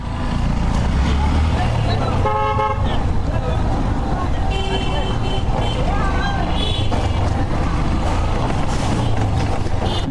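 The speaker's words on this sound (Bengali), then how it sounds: "ভাই হর্নটা শুনছেন কি জোস" A new aftermarket horn fitted to a motorbike blares in short, loud, tonal bursts while riding on a bypass road, over constant heavy engine and traffic roar.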